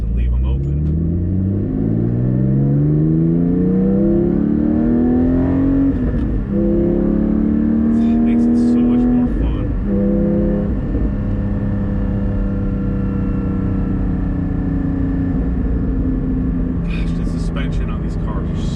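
A Porsche GT4 fitted with a Soul Performance over-axle exhaust pipe revs and accelerates through the gears, its engine note climbing and dropping with shifts, loud and close from inside the car, while a person talks over it.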